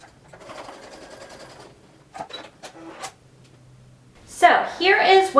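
Sewing machine stitching the edges of a patch pocket: a short rapid mechanical buzz of stitches, a few clicks and pauses, then a louder burst of stitching, with a voice speaking in between.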